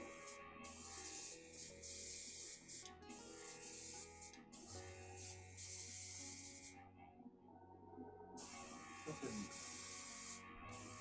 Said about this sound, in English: This airbrush is not meant to push silver colors like this.